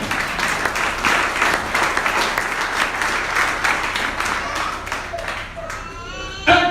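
A church congregation claps in sustained applause, dense and fairly close, with a brief voice near the end as the clapping fades.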